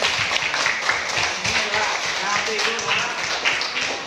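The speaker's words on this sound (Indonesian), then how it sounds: "Bagus, tepuk tangan untuk Eman." Classroom of students clapping for a classmate named Eman during a Pancasila lesson, a dense steady patter of many hands with a voice talking over it.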